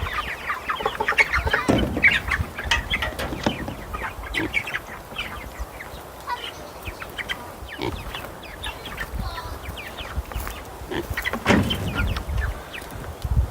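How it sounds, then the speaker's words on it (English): Chickens cluck and murmur steadily at a farm tractor coop, many soft overlapping calls with occasional louder squawks, close by and continuous with no talk. "The chickens are happy."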